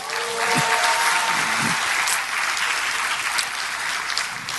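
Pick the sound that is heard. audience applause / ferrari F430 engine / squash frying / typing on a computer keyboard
audience applause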